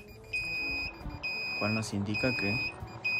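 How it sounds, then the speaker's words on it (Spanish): An ZL7801 incubator temperature controller sounds its over-temperature alarm, a steady high electronic beep repeating in long pulses while someone speaks over it nearby. "hay algo que nos está calentando de más y tenemos ahí la alarma"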